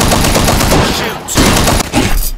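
Rapid automatic gunfire from World War Heroes, an AS-44 and MAS-40 loadout, dense loud bursts filling the clip with a brief lull midway before firing resumes.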